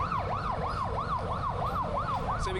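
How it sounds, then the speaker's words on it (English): Ambulance and fire rescue sirens wail in Kathmandu city streets, a loud steady rising-and-falling whoop repeating rapidly over dense traffic rumble, with a second siren tone entering at the end. "so many ambulances and fire rescues and things going off."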